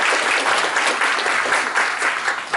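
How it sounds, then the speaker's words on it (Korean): A seminar audience gives dense, continuous applause, a loud steady patter of many hands clapping together with no break. "박수 한번 하시죠"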